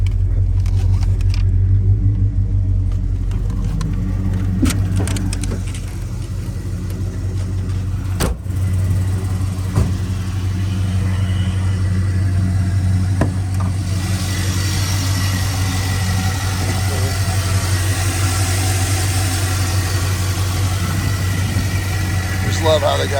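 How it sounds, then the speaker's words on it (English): A 1978 Chevrolet El Camino SS with an LS V8 idles steadily, a deep continuous rumble with a few brief bumps and clicks, heard up close while a person talks over it. "Out there and listen to the engine."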